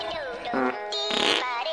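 Fart noises play in a Garry's Mod game server: a quick run of several loud, close, buzzing blasts with no one talking over them.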